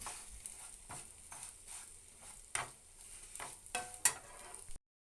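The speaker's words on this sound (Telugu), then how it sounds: "అదే ప్యాన్లో కీర్ని వేసి ఆ నేతిలోనే వేయించుకోవాలి." Kheer ingredients frying in ghee in a pan, a soft sizzle with intermittent stirring scrapes and a few sharper clinks, close and fairly quiet with no talking.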